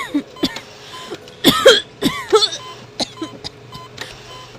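Coughing in a radio drama set in a room with a half-empty glucose bottle and small stool: several harsh bursts, a cluster of strong coughs mid-clip, then weaker throat-clearing sounds, close and dry with no talk.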